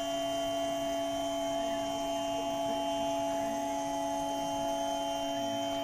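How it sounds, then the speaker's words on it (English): Desktop CNC mill cutting black acrylic, a steady machine whine with strong tonal hum held at an even level throughout, close and continuous with no voices. "Black acrylic milled like ice cream."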